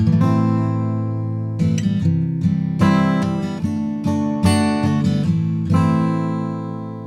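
An electric guitar plays a chunky, distorted riff with sustained low chords and sharp strums, recorded close and loud through a Shure SM57 microphone aimed at the speaker's neck, with no voices.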